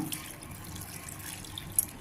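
Water pours steadily into a cooking pot for a couple of seconds with a soft, even splashing, close by and fairly quiet, with a brief brighter splash near the end.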